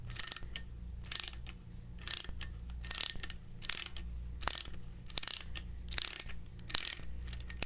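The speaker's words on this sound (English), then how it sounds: "fully retract the flaring cone by rotating the feed screw" A Uniweld deluxe flaring tool's feed screw is turned counterclockwise to back the flaring cone out, giving about nine evenly spaced bursts of sharp ratcheting clicks, close and clear, with no talking.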